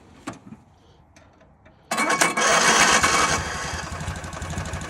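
A lawn mower engine, on a mower being taken out wheeling, roars into life after a quiet stretch and keeps running loud and close with a rough, steady drone.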